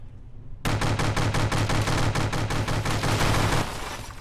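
SMG fire in From the Depths: a loud, steady burst of rapid automatic gunfire with evenly spaced sharp reports, starting abruptly after a quiet lead-in and running for about three seconds.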